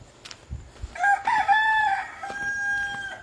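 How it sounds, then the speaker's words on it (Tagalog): Rooster crowing once with a clear, rising cock-a-doodle-doo at a nature park, fairly close against quiet outdoor background. "Oh, ayan ang mga tilaok ng manok."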